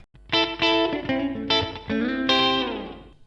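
Electric guitar plays a few distorted, sustained chords and notes through a Neural DSP NanoCortex amp simulator, ringing out briefly before fading.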